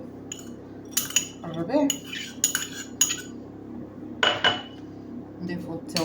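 A metal spoon clinks and scrapes against a bowl in short bright bursts, several sharp strikes spaced over a few seconds, as fish stuffing ingredients are mixed, with a voice speaking quietly in between.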